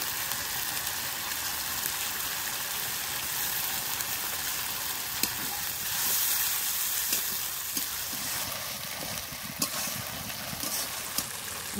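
Cumin and dried chili paste along with spice water hit mutton frying in a pan, a steady loud sizzle and hiss that swells briefly, with a few scattered clicks of a utensil.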